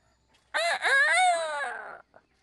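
A chicken in the video game Trine 2 lets out one loud, drawn-out squawking call of about a second and a half, alone against near silence and ending in a brief clipped note.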